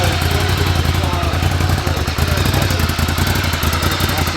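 A Ducati Scrambler Desert Sled 800 motorcycle idles nearby, a steady low throb with fast rhythmic pulsing and a brief dip midway.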